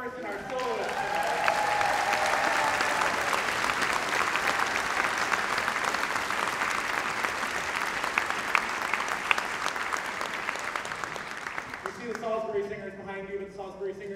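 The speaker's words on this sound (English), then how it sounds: "can you give another round of applause for our chorus and our soloists?" Sustained audience applause for a chorus and soloists at a holiday pops concert, a broad, even wash of clapping from a large hall, tapering near the end as a voice begins speaking.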